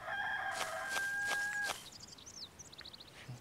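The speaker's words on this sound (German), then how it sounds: "dieser Hahn fängt langsam echt an, mich zu stören" A rooster in the video game Dark Cloud crows loudly in a drawn-out call, followed by softer chirping birds in the game's background ambience.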